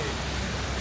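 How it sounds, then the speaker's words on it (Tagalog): Rain falls in the city of Lucerne, heard as a continuous dense hiss of drops on streets and surfaces, steady and fairly loud across a very brief moment with no voices over it. "It's raining guys. It's raining."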